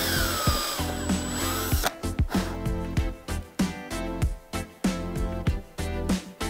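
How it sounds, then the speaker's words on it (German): A power drill fitted with a very small bit bores a hole for a DIY green wall, giving a steady whine that breaks into short, close, rhythmic bursts as the trigger pulses. "jetzt habe ich einen ganz, ganz kleinen Bohrer, dass es passt"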